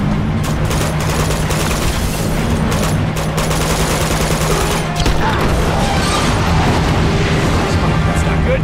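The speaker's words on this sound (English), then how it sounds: "that guy's got a grenade launcher" Grenade launcher blasts and heavy gunfire fill a firefight in the video game Uncharted 2, loud booms and rattling shots layered continuously under someone talking.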